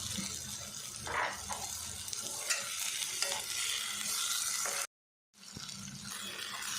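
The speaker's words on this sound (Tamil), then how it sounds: "மசாலா வந்து பார்த்திங்கன்னா நல்லா மிக்ஸ் பண்ணி ஃப்ரை பண்ணிவிட்டேன்." Egg masala sizzles and fries in a pan while a utensil stirs and scrapes through it, steady and close, with a brief dropout near the end.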